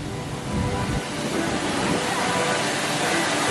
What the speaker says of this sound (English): And there goes one of the trains.